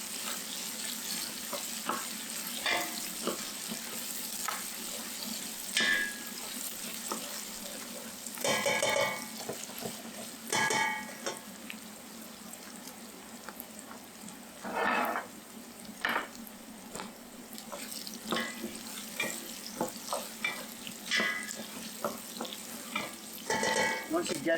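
Onion and garlic fry gently in a pan for Hungarian goulash, a soft steady sizzle broken by intermittent stirring scrapes and brief bursts of running water in a kitchen.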